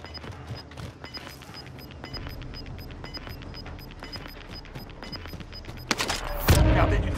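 Rapid volleys of gunfire in the battle royale shooter Warzone, a steady run of close, sharp shots with a louder blast near the end. Faint voices sit beneath the shooting.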